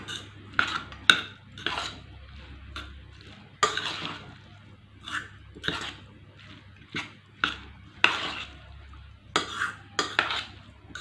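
A spoon stirs aval pongal (flattened rice with grated coconut) together in a bowl, making close, repeated scraping and clinking strokes in short bursts with quiet gaps between them, and no talking.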